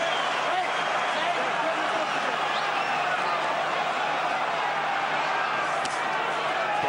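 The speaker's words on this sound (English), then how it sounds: "This crowd going absolutely bonkers." Boxing arena crowd at the Derek Chisora vs Robert Helenius fight roaring in a dense, steady wall of cheering that stays loud and unbroken throughout.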